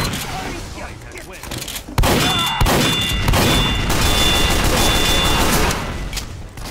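Explosions and gunfire in the Team Fortress 2 video game, a loud sudden blast followed by sustained crashing combat noise with a voice talking over it.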